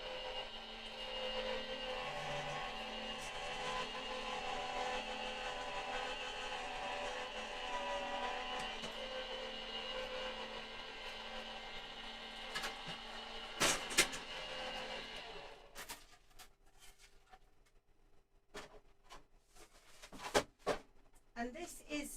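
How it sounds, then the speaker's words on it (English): A card-making machine runs as a card base is fed through, giving a steady mechanical whirr that lasts about fifteen seconds and then stops, followed by a few clicks and knocks in near-quiet. "excuse me while I make a little bit of a noise while we put this through the machine"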